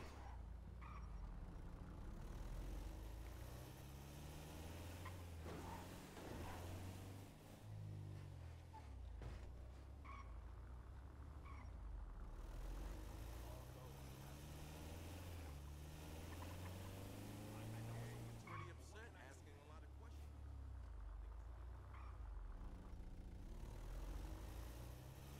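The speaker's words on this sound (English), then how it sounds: "Van kind of sounds like how my car sounds back home. Sounds like I'm driving one of them diesel engines." Diesel van engine in a roleplay video game, a steady, close, low rumbling drone whose pitch rises and falls slightly as it runs, with no talking over it.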